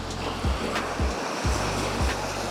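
Ocean waves roll in and break repeatedly, four or so low surges washing ashore in a steady rhythm under constant surf noise.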